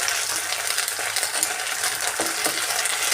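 Ginger paste frying with browned onions in a pan for a flat bean and egg curry, giving a steady, close sizzle with scattered scraping and stirring clinks throughout.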